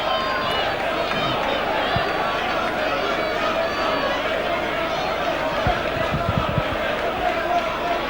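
A large football stadium crowd at a Leeds v Doncaster match on an autumn afternoon, a steady dense roar of murmuring and shouting with a few brief louder bursts, heard under close commentary.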